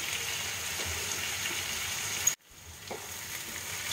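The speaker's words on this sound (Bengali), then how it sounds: "চাল কুমড়োটা দেওয়ার পর একটু নাড়াচাড়া করে" Ash gourd and green chilies fry in a pan, a steady close sizzle with light stirring, cut off abruptly midway before the sizzle swells back in.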